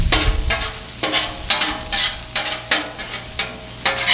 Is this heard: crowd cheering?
no